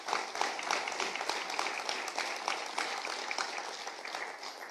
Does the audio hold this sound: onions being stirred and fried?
no